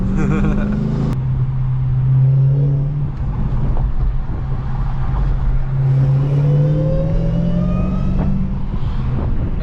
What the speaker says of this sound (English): Drift it. Let's slide it, yeah?